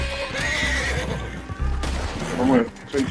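A horse whinnies in the Western video game Red Dead Online, two loud neighing bursts with hoof clip-clop beneath, while someone talks over the game sound.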